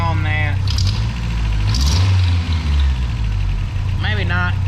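A 1992 Toyota pickup's engine idles with a low, heavy, steady rumble and a slight exhaust leak, while people talk over it in short bursts close by.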